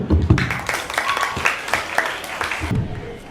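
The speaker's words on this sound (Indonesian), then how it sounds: "Berikan aplaus" Applause at a school student council (OSIS) candidate debate, brief scattered clapping from a small audience with a voice speaking over it.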